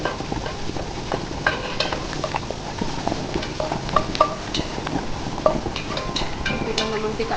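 Garlic going into onions frying in a pan, a soft sizzle under scraping and clinking of a utensil against the pan, close by, with a voice talking faintly over parts of it.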